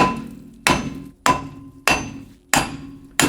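A hammer strikes a rusty, stuck brake drum on a Honda Del Sol turbo project car to free it: five loud, sharp metallic blows spaced about half a second apart, each ringing briefly before fading.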